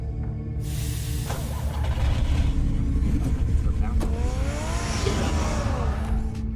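A car engine revs in the Batman Telltale series video game, a loud sustained roar with a rising pitch sweep near the end, under a busy soundtrack and effects, with no talk.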